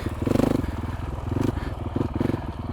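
A 2026 Honda CRF450X dirt bike engine idles in second gear on slow single track, a steady close single-cylinder chug with rhythmic pulses and faint clattering.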